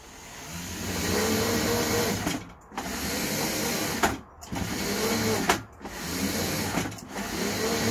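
Drive motors of a homebuilt robot run during its first power-up test, a steady mechanical whirring hum that briefly cuts out three times before restarting, close and fairly loud, with no voices.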